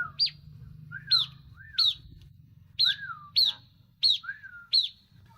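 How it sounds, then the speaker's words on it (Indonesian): A pet bird chirps in bright, repeated two-part calls, about seven in a row at steady intervals, fairly close, with a low hum underneath. "Lihatlah bagaimana Hendrik coba mengutarakan kegundahan hatinya pada burung piaraannya ini."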